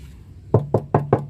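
Knocking on the metal body panel of a 2012 Toyota Avanza G 1.3 manual gives five close, sharp hollow raps in a quick, slightly uneven rhythm, with no talk.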